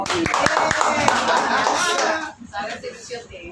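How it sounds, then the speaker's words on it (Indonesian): Church fellowship audience in Pamulang clapping in a dense, fast patter of many hands, loud and close, with some chuckling, fading out after about two seconds into quieter room noise. "Tepuk tangan lagi dong."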